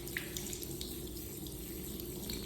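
A commercial faucet just repaired with a battery change runs steadily with tempered water, a continuous close hiss of flowing water filling the moment alone without speech.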